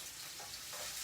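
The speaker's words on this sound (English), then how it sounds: "You can hear the sizzle, and I'm going to stir constantly for about 2 minutes." Cubed zucchini sizzles steadily in hot oil while being stirred, a continuous close, even frying hiss with no speech.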